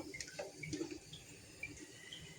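Pointed gourd and potatoes being washed in water in a home kitchen, faint splashing and trickling with small sloshes and drips, quiet and close, no talk.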